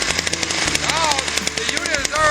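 A Jiffy ice auger engine on full choke, with the throttle cable held all the way down, fires in a rapid, choppy stutter of loud mechanical pulses that carries on steadily for a couple of seconds.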